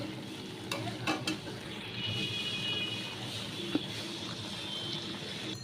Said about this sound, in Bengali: এবার আলু আর গাঠি সিদ্ধ হওয়ার মতো জল দিয়ে দেবো